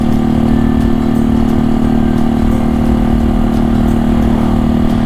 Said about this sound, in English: Oddly enough, this bike is louder than my bike